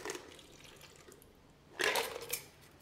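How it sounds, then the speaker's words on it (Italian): Meltwater drained out of a chilled cocktail shaker while making a basil daiquiri, a faint watery trickle followed by a brief louder splash and spatter of water into a sink. "scolo l'acqua che si è formata all'interno"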